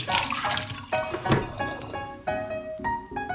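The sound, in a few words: tap water running for film developing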